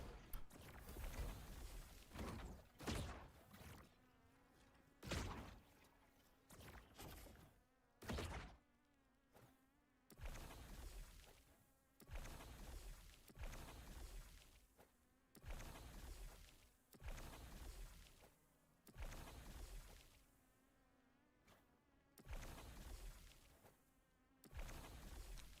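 Summoned bees buzzing in the Warpath Void Knight game, a faint insect drone repeatedly broken by loud thumping impacts in an uneven rhythm.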